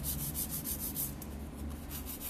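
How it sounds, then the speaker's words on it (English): An electric nail drill files fingernails with a steady, close abrasive whirring and rubbing that continues without pause and without talk. "the drill also helps build consistency in the shape"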